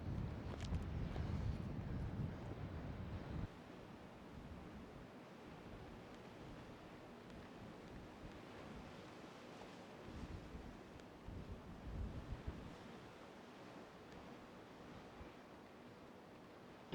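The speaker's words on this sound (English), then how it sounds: "It's just a cliff and the ocean is below us." Ocean surf breaks below a coastal cliff in Australia, heard as a distant, continuous wash of waves with wind buffeting the microphone, louder in the first few seconds and then settling to a softer, steady roar.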